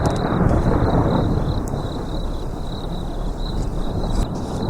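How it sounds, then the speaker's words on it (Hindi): Low, continuous thunder rumbles steadily with a stormy wash of noise throughout, and a faint high whine runs across the top. "उसने सुना बिजली कड़क रही थी।"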